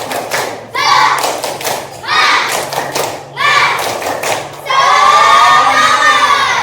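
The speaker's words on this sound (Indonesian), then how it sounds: "Oke, seluruhnya tepuk semangat." An elementary school class doing a rhythmic clapping chant together, bursts of quick clapping alternating with loud children's group shouting in a repeated pattern, ending in a long sustained cheer, close and loud.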